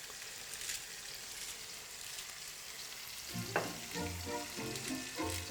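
Close, steady sizzling of a sweet potato pancake browning in olive oil in a pan, with a soft crackle throughout and a few light clinks as something is moved.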